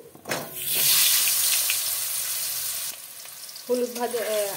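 Potatoes fry in hot mustard oil with turmeric in a kadai, a loud burst of sizzling that settles into a steady hiss, followed by a short stretch of speech near the end.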